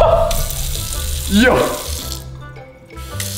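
A chrome kitchen faucet runs with a steady broadband hiss of flowing water, loud and close, while people talk and exclaim over it before the flow cuts off near the end.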